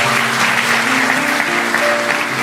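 A church congregation claps together in steady, dense applause, filling the room with continuous sound for a couple of seconds.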